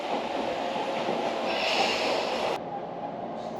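Local electric train at Tatebayashi station on the Tobu Railway, a close steady rolling rumble with rising motor whine and hiss, then the noise drops abruptly as the car's sound changes, no voices.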